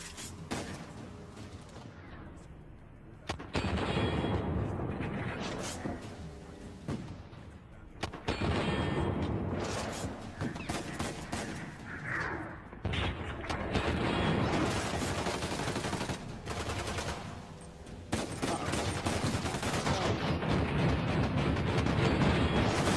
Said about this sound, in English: Spam with the grenades.